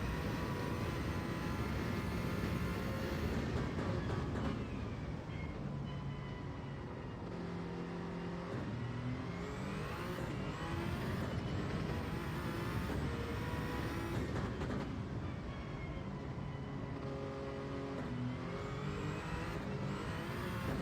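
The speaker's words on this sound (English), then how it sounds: "Willie downshifting very quickly" A race car engine in a Daytona racing video game drops rapidly through the gears, revs sweeping up and down in loud, continuous tones with no talking.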